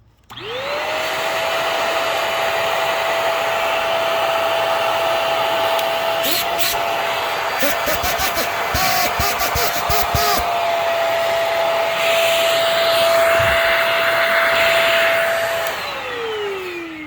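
A GeeMo corded stick vacuum cleaner motor whines up quickly and runs at a steady pitch, sounding clogged even when clean, with brief rattling bursts midway, then spins down at the end.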